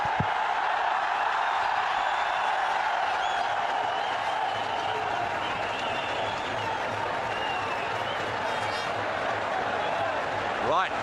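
Steady roar of a packed cricket stadium crowd in Sharjah cheering during Sachin's innings against Australia, a sustained, dense wash of cheers and clapping at a constant level.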